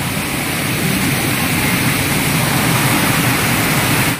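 Tugpan Falls in Santa Josefa, Agusan del Sur, a small waterfall roaring as a steady, dense rush of falling water, close and loud throughout with no voices.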